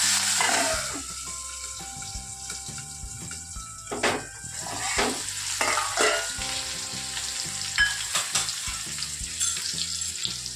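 Onions and chilies sizzle loudly in hot oil as a tempering for dal fry, a continuous crackling fry with occasional stirring scrapes and some background tones, no voices.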